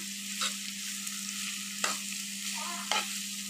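Stalks and egg bhaji frying in oil with slit green chillies, a steady soft sizzle with a constant hum underneath and a few sharp clinks of a stirring utensil.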